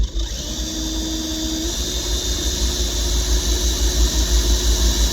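A power drill bores holes while water cools the bit, giving a steady high whine and squeal over a low motor hum, close and loud, with no talking.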